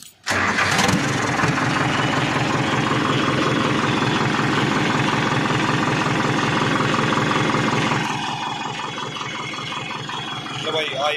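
A turbocharged vehicle engine starts and settles into a loud, steady idle in neutral, its rumble dropping slightly in level near the end, with no speech over it.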